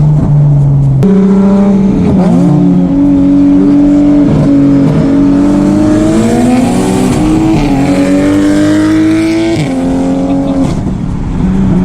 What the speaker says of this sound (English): That's one fast Supra.